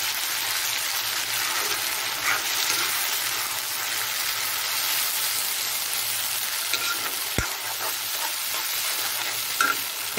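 Spice paste frying in a hot pan gives a steady, close sizzle that runs unbroken from start to finish, with a light stirring scrape now and then and one sharp click near the middle.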